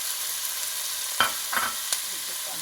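Onion and celery sauté gently in a pot for minestrone over low-medium heat, a steady soft sizzle with a few spoon-stirring scrapes breaking through.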